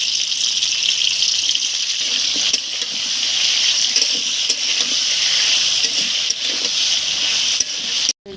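Raw green plantain frying in oil in a pan gives a loud, continuous close-up sizzle with faint stirring scrapes throughout, ending in a sharp knock.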